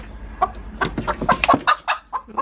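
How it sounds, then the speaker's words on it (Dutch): A chicken sitting in a laying box clucks close by in a quick, uneven run of short throaty calls. "Momenteel zit er één kip in."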